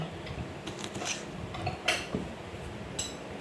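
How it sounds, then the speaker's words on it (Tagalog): A knife slicing green beans into small pieces on a cutting board, quiet scattered taps and clinks at an uneven pace, close by and faint, with no talking. "hiwain natin yung beans na slice na maliit lang siya para madali lang siyang kainin"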